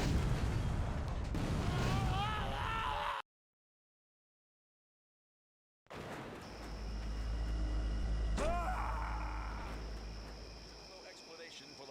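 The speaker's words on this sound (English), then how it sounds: "No explanation for the massive explosion that destroyed the Punch Bowl police station" Massive explosion destroying a police station in the video game Stubbs the Zombie: a sharp blast after a silent gap, followed by a deep, sustained rumble, with game voices before and over it.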